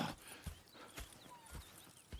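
Horses clip-clop in Red Dead Redemption 2, a quiet, steady rhythm of hoof strikes about every half second, faint and close with no talking.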